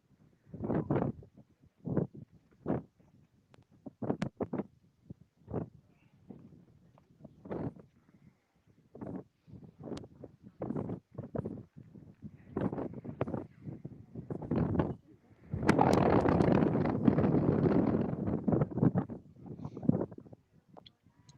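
Wind buffets the microphone at an outdoor women's football match, coming in irregular rough gusts that swell into a longer, louder sustained blast near the end.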